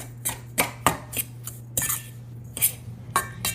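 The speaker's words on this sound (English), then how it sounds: "And then I am just gonna mix this together" Sugar and salt are mixed together in a bowl for a cheesecake crust, making a series of spaced clinks and scrapes of a utensil against the bowl, close and fairly crisp, with no voices.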